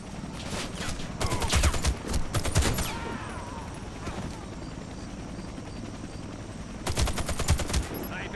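Bullets whistle past amid bursts of automatic gunfire in the video game Warface, loud rattling volleys at the start and again near the end, with a droning hum and a quieter stretch between.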